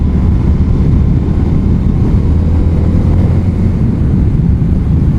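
A 2020 Indian FTR 1200 motorcycle being ridden, its engine a loud, steady low drone blended with heavy wind buffeting on the microphone, holding constant with no distinct rev spikes.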